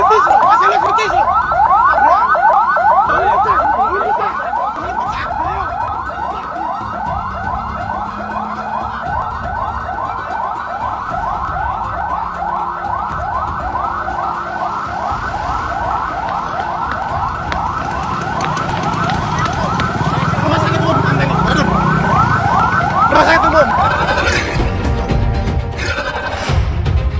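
An ambulance siren wails in rapid, regular sweeps as the vehicle moves through traffic near Tambun, Bekasi. It stays loud and continuous for nearly the whole span, with road noise underneath.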